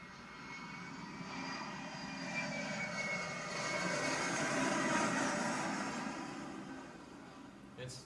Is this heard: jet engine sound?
yes